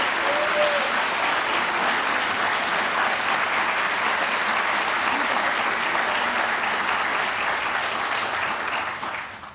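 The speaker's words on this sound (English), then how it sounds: "please, a big round of applause for our Bloombergs." An audience applauds a school-owned chamber music ensemble at an induction ceremony, a broad, steady roll of many hands clapping that holds evenly for several seconds before tapering off.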